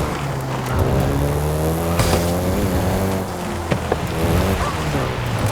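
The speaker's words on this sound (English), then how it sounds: "including the Golf GTI you're driving right now" Volkswagen Golf GTI engine in a racing game set in Mexico, a steady loud droning hum with rising and falling harmonic tones as it revs through gears, continuous and close throughout.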